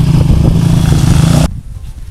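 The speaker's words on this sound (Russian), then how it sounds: "Мотоцикл." A motorcycle engine drones loudly and steadily near a metal-detecting site in the countryside, then cuts off abruptly as it passes, leaving only faint background rumble.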